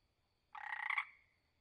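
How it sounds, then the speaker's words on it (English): Paraguay horned frog calling once, a single loud, close, pulsed buzzy croak lasting about half a second with a trailing fade, alone in a quiet setting. "Paraguay horned frog."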